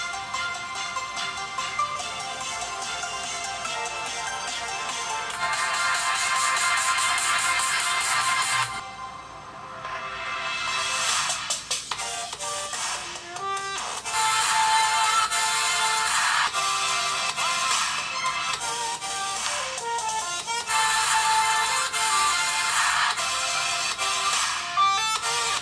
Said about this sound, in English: Now, I actually carried out a test on the speakers,